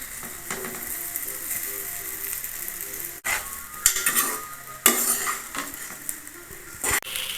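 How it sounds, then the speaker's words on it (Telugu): Rice mixed with avakaya mango pickle stir-fried in a kadai, with soft frying sizzle under repeated scraping and stirring strokes and a few sharp utensil clacks against the pan, no talking. "ఇప్పుడు ఆవకాయతో అన్నం కలిపి పెట్టుకున్నాం కదండి, అది బాండీలో వేసేసుకున్నాం."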